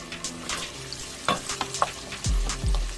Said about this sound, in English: here's my white onions that I cut. I'm gonna put it in here and fry it in.